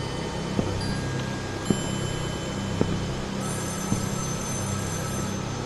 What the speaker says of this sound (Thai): เสียงโทรศัพท์ครับ